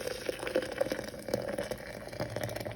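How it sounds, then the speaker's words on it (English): Water pours steadily into a Le Creuset French press over coffee grounds, a soft continuous liquid stream heard close by without speech. "And then you add your water."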